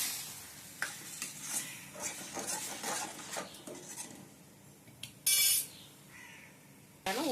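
Cooked, mashed tomato is tipped into a pan of sautéed mixture for a tomato chutney and stirred, with close scraping and clinking of a utensil against the pan, light sizzling, and a few louder knocks.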